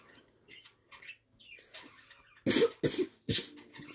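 A child coughs several times in quick, sharp bursts toward the end, after some quieter vocal noises, indoors with a relaxed family moment around it.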